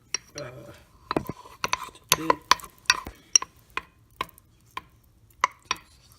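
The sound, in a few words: whisking mug cake batter with flour and baking powder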